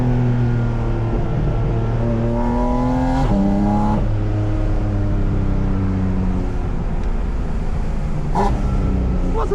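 A Porsche 718 Spyder RS accelerates hard on the road, its engine note climbing through rising pitch sweeps with quick shift breaks, loud and close throughout.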